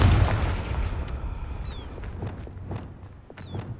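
A Confringo spell bursts in Hogwarts Legacy with a heavy booming blast up front, then a rumbling decay with scattered crackles and a faint whoosh trailing off alone.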